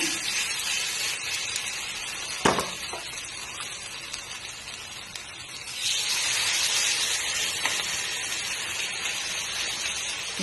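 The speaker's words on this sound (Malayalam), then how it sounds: "ഇനി നമ്മൾ റെഡിയാക്കി വെച്ചിട്ടുള്ള ചിക്കൻ ഓരോന്നായിട്ട് അതിലേക്ക് ഇട്ട് കൊടുക്കുകയാണ്." Chicken pieces frying in coconut oil in a frying pan give off a steady, close hissing sizzle. A sharp clack sounds once, and the sizzle swells louder partway through.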